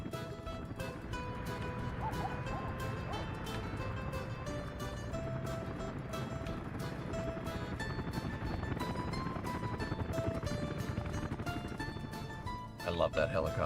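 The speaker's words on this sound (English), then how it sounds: "I love that helicopter noise." A helicopter flies over near a fire station, a steady, loud droning rumble that runs throughout without letting up.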